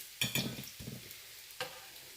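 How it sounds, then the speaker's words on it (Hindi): Aloo chicken kebabs fry in oil, a quiet sizzle broken by a few short bursts of stirring or turning in the pan, fairly close and fading between movements. "इसी तरह हम तमाम कबाब को फ्राई कर लेंगे"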